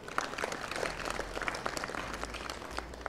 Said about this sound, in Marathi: आपण सर्व मुलांनी टाळ्या वाजवून त्यांचं स्वागत करावं।